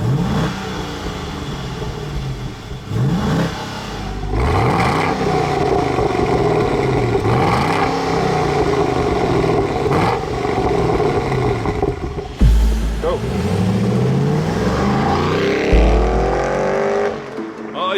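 A Chevy SS sedan's 6.2-liter V8 with a six-speed automatic revs loudly and steadily, rising and falling through repeated throttle sweeps, close up and continuous throughout.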